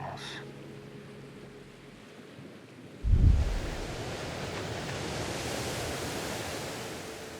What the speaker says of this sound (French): L'océan bat, il respire, il efface et il recommence.